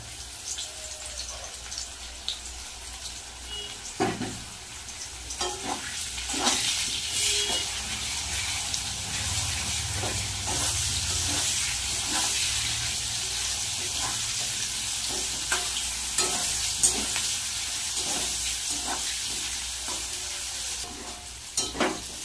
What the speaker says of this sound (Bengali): পেঁয়াজ কিন্তু ভালো করে ভাজা হয়ে গেছে, আলু আর পেঁয়াজ